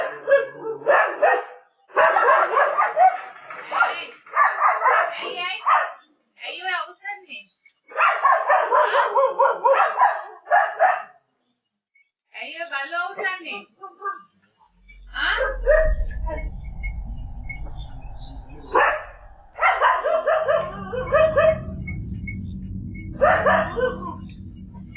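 Dogs bark and yip frantically in bursts, loud and close, overlapping a steady low rumble that starts partway through.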